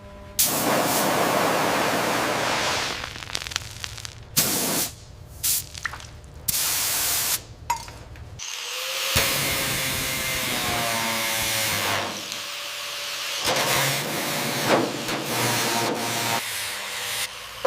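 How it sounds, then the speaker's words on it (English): Bursts of chemical treatment spraying onto a car body, loud and close hiss starting and stopping repeatedly with brief pauses and some dripping and rubbing between them. "We start the application on the driver's side. Maintain the spray pattern exactly as practiced."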